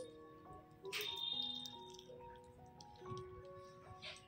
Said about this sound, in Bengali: এই যে সমস্ত বীজগুলো এইভাবে চিপে চিপে ফেলে দেব।